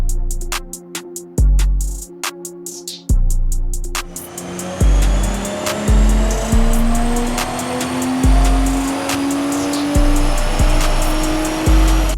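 BMW G42 M240i running on a dyno, a loud engine revving up through the gears in repeated rising pulls, each cut off by a sharp shift, close and powerful.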